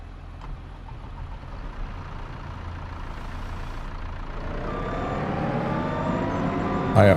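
A farm tractor engine runs nearby in a steady, rumbling drone that grows gradually louder toward the end, with no talking.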